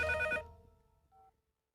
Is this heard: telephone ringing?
yes